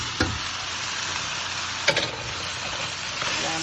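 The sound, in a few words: sautéing parboiled rice and chickpeas in a pot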